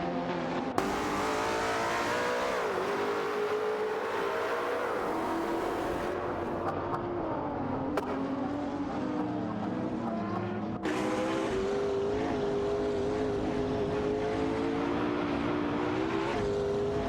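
Racing cars in an AI-driven racing game roar continuously, engine notes rising and falling as they accelerate and jostle for position, with occasional sharp shifts in pitch as one car overtakes another; steady, loud and up close with no talk.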